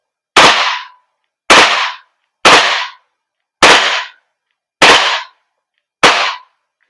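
A WE Glock 35 Force Series T5 airsoft gas blowback pistol fires six single shots at steady intervals of about a second. Each is a loud, sharp, close crack with a short decay and silence between.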